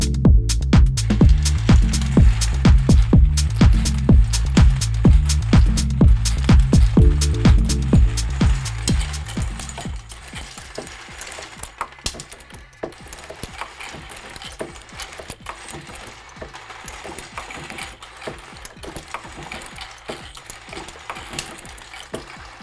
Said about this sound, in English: that means we can now turn on the case feeder and run up the press